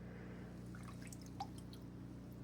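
Distilled water drips and trickles close by while it rinses acid off a silver anodized Crupi chainring, soft scattered droplets over a quiet low hum.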